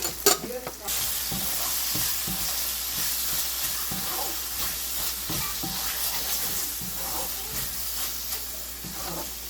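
Egg macaroni seasoned with Maggi masala and sugar sizzles in a pan while a utensil stirs it, giving steady frying hiss with scattered scraping clicks up close.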